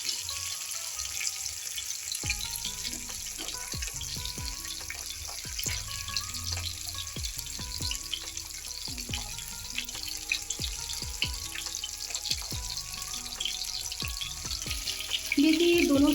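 Fish frying in a pan on its second side, a steady, continuous sizzle and crackle with occasional scraping or utensil clicks, close and even throughout.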